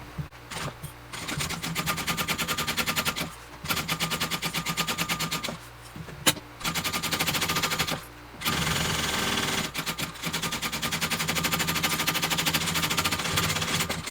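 A sewing machine bastes a backpack lining piece in rapid, rattling bursts of stitching, several seconds each, separated by short pauses, close and steady with a brief clunk between runs.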